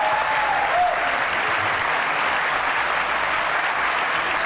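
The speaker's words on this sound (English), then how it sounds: "That means you can clap." Theater audience at a Senate debate broadcast applauding, a full house producing a dense, even wash of clapping that holds steady from start to finish.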